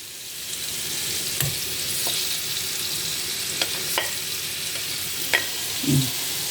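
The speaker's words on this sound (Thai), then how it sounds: "ใส่หมูไปเลยนะ ทอดหมูให้สีเหลือง สีน้ำตาลก่อนนะคะ" Pieces of pork fry in melted butter in a pan, a steady hiss and sizzle with a few sharp crackles and light clinks of a utensil.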